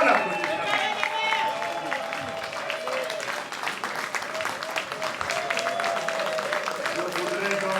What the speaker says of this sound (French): Donnons l'applaudissement